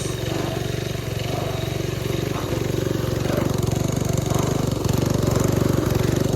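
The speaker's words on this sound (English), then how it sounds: "transmission's making weird noises" A Simplicity Serf garden tractor runs steadily close by, its engine drone joined by an uneven transmission whine with a few faint knocks, gradually getting louder.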